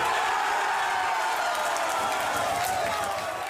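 Hockey fans at a Montreal bar cheering during a Canadiens playoff game against the Sabres, a dense roar of crowd voices and whoops with some clapping, steady and loud, with talk mixed in.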